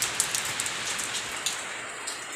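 Steady rain falls on a surface in a continuous patter with occasional louder drops, close and even throughout, with no voices.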